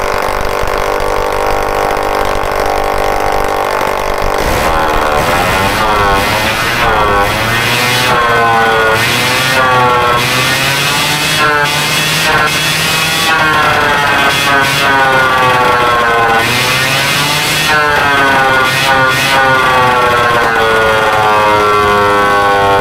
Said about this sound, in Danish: man vil hurtigt kunne høre, at der er rigtig ryg i den her motor her